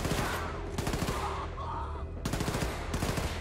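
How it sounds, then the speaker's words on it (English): Rapid automatic gunfire in the shooter Wolfenstein II: The New Colossus, loud close bursts of machine-gun fire broken by a brief lull in the middle before the shooting resumes. "who's shooting now?"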